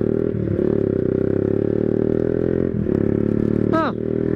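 A motorcycle idles loudly close by, its exhaust throbbing in a steady low drone with brief blips of throttle.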